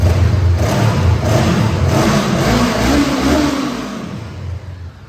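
A 2017 Honda CB500F ABS motorcycle engine revs loudly up close with a steady throaty roar, then eases off and quiets slightly near the end.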